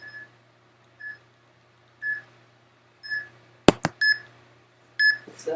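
A workout timer gives short electronic beeps about once per second, steady and fairly quiet, with a couple of sharp knocks partway through.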